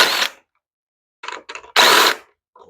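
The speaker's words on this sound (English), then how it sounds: "8mm wrench would probably fit better there on these back ones" A wrench turning bolts on a Kohler engine gives short bursts of metallic ratcheting clicks, two louder whirring runs and a few quick clicks in between, close and separated by silences.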